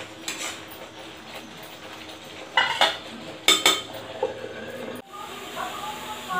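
Mustard masala stirred and roasted over a low flame in a pan for arbi curry, with a steady soft sizzle and intermittent scraping clinks of a spoon against the pan, fairly close.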